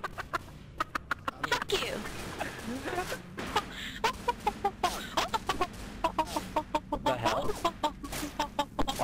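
A woman imitates a chicken with a run of rapid, choppy clucking calls, loud and close, mixed with laughter and other people talking over it.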